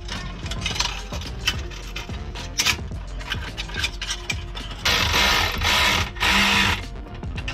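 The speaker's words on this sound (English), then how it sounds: "Go ahead and tighten down your hose clamps on these heat shields." Hose clamps on the exhaust heat shields of a 2021 Can-Am X3 Turbo RR being tightened up close, with quick ratcheting clicks, scraping and bursts of whirring driver noise.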